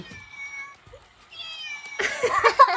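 A cat meows a few times in a home during a children's pretend-play game, with harmonic cries standing out clearly before a burst of louder clatter and voices at the end.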